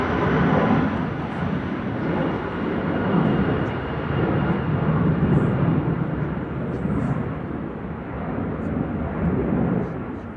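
Airliner passing at Manchester Airport on a gusty day, a broad steady jet roar holding loud and close throughout the clip, with no other sounds breaking through.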